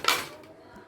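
A brief metallic clink of pots and utensils as khichdi is served, one sharp close knock at the start fading quickly to quiet room tone.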